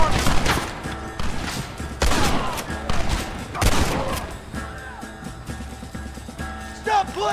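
Battle gunfire in the Western game Red Dead Redemption, loud rapid bursts of rifle shots in clusters alongside mechanical clanks, with shouting voices mixed in.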